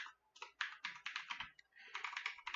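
Quick bursts of typing on a computer keyboard with an English layout, close and crisp, clattering in short rapid runs separated by brief pauses.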